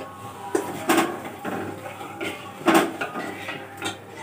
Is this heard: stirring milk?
yes